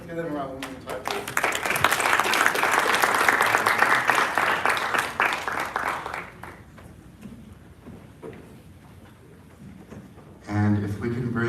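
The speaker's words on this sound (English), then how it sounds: "Give them a round of applause, please." Audience applause at a Korean War 75th anniversary commemoration and forum in Washington DC, dense clapping for several seconds that fades to a lower murmur, then a brief voice near the end.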